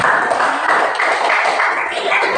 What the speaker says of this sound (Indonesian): beri tepuk tangan dulu